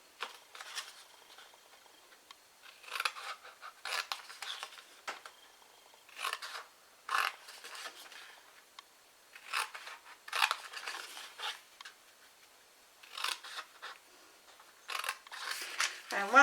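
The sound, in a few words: cutting card along a score line, likely with scissors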